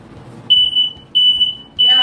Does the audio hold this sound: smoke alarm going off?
yes